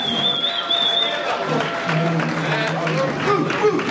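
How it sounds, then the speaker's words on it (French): An audience claps and cheers for the tourism minister at an event in Madrid, a steady wash of applause with crowd noise, mixed with talk and scattered background sounds. "Applaudissons encore très fort le ministre du Tourisme."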